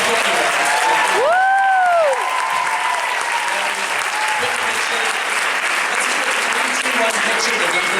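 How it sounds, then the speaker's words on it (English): A standing audience applauds at a BroadwayCon 2017 Broadway Kids panel, a loud continuous wash of many hands clapping, with whistles rising over it early on. "everyone stand, give a huge round of applause"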